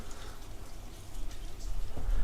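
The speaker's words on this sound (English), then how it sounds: "Now since it is already raining" Morning monsoon rain falling steadily, a dense close patter and hiss of drops on surfaces that swells slightly toward the end.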